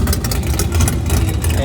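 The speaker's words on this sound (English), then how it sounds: "we're gonna crank it" A car engine fitted with a new oil pressure sensor cranks and runs on a cold day, a steady low rumble with loud, continuous pulsing. A voice may be talking over it.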